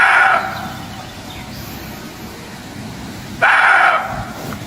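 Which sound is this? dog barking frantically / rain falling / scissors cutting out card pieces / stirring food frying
dog barking frantically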